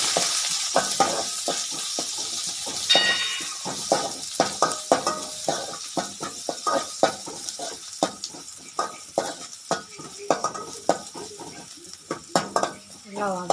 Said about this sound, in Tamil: நல்லா வதக்கிக்கலாங்க